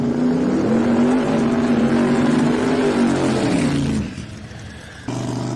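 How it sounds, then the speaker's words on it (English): Drag racing cars at a summer drag-and-drive event doing burnouts, a loud continuous engine roar with a steady low tone that sweeps down and cuts off near the end before another engine carries on. "They are waiting for the signal, and here we go. Burnouts can commence."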